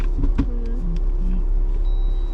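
A 4x4 vehicle on a mountain pass trail is shifted into four-wheel drive, giving a brief mechanical clunk and short whining tones over a steady, close engine rumble.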